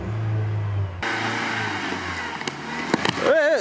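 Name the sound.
Soviet big-wheeler vehicle driving off in first gear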